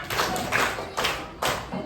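Children in an elementary classroom clap together in a counting clap game, giving a few sharp group claps in a steady rhythm with short pauses between them.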